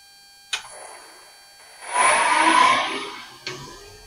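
A wood lathe motor starts with a click and winds up into a loud, steady whirring hum for about a second, then spins down to a second click, heard close with no talk.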